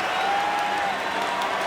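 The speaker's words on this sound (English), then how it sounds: "Crowd is on their feet" A hockey arena crowd on its feet before a shootout sends up a dense roar of applause and cheering, loud and sustained across the whole moment.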